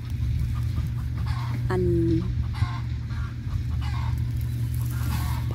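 Chickens cluck near a house, with a few short calls rising over a steady low hum and background noise, while someone speaks briefly.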